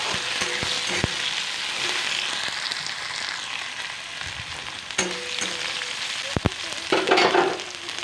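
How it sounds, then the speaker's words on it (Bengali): Tomatoes frying in a pan for a Bengali aloo fulkopir rosa, a steady close sizzle running throughout with occasional louder spatters and clinks, no talking. "এবার টমেটোগুলিকে একটু ভালো করে পাঁচ মিনিটের মধ্যে ফ্রাই করে"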